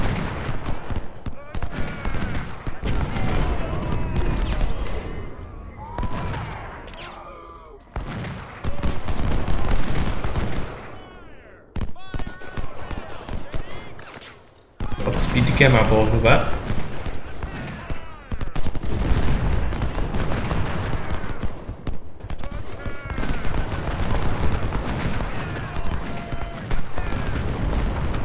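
Sustained musket and cannon fire rumbles through an Ultimate General: Civil War battle, dense crackling volleys rolling almost continuously with brief lulls, while someone talks over the din.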